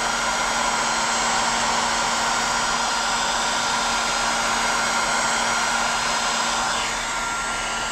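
A Super Stripper 1200 heat gun melts glue on a purpleheart wood serving board piece, blowing a loud, steady whooshing roar with a faint constant whine for the full eight seconds, with no voices.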